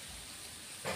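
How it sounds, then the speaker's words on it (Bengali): Water poured into a pan of hot oil for a thin koi fish curry sets off a sudden burst of sizzling that rises out of a steady low frying hiss at the very end, close and fairly quiet. "এখন আমি জল দিয়ে দেব।"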